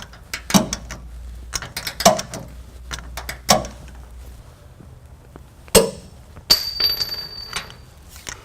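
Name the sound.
torque wrench tightening trailer hitch bolts on Ford F-150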